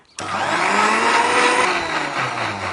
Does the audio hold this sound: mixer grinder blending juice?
yes